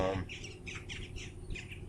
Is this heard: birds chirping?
yes